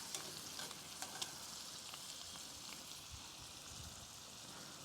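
Shrimp sear in a pan for tacos as a faint, steady frying hiss with a few small pops and crackles.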